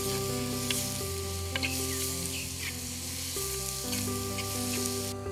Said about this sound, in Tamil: நம்ம இடிச்சு வச்ச பூண்டு, இடிச்சு வச்ச வெங்காயம் எல்லாம் சேர்த்து நல்லா வணங்கட்டுங்க.